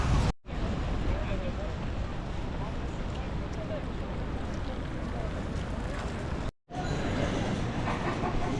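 Inside Amsterdam Central railway station, a steady crowded hubbub of echoing voices and footsteps fills the hall. It cuts out briefly near the start and again near the end.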